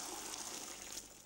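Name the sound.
draining water from boiled pasta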